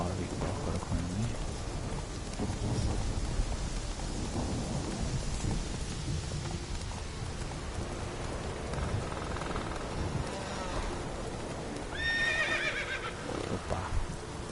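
Geralt's horse Roach in The Witcher 3: Wild Hunt gives a whinny late on, over steady rain and thunder rumbling throughout the game scene.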